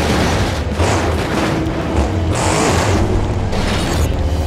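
The Megalodon monster truck crashing in BeamNG Drive during a mud battle, a loud, dense run of booming impacts and grinding mechanical crunches with no one talking.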